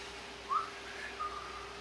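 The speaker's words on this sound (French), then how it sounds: "on entend siffloter au loin. C'est comme un sifflement, mais assez bas." A soft, distant whistled tune, two brief thin notes rising faintly over a low steady hum, barely above the background.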